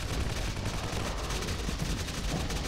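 Rapid, dense player gunfire in the action game Action Alien: Tropical Mayhem, a loud continuous burst of shots with no pauses, close and alone without talk.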